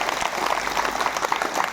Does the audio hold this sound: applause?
yes